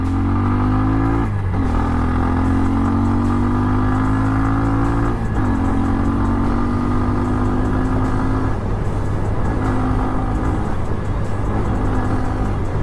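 A Bajaj Pulsar N125 motorcycle engine revs up and accelerates loudly through several gear shifts, the pitch climbing in stages with brief drops between, close and strong throughout.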